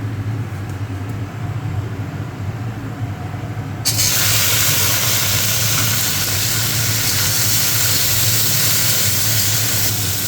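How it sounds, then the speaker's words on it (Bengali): A low steady hum, then a sudden shift into a loud, bright, continuous sizzle of okra frying in oil in a wok, close by. "আমি তেল দিয়েছি, এখন নেড়ে নিয়েছি, হালকা ভেজে নেব।"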